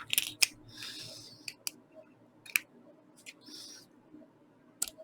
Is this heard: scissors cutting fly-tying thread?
yes